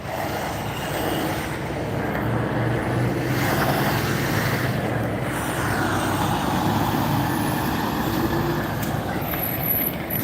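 Heavy trucks passing on a road, a loud continuous broadband roar of engines and tyres that swells and fades slightly over ten seconds, heard up close with no talk.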